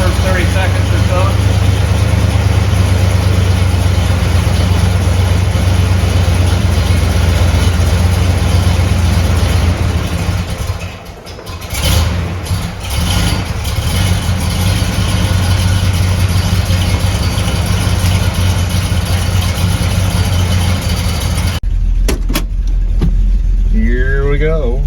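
A cold 1971 Buick GS Stage 1 V8 idles steadily in a 4-speed convertible, a loud continuous low rumble that dips briefly midway, with a person talking over it.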